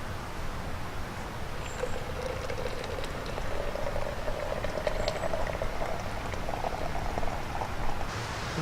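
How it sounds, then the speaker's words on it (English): Water boiling in a pot at a wilderness campsite, a steady close bubbling and rolling simmer with faint crackles, continuous throughout. "the water's been boiling for around 5 minutes now"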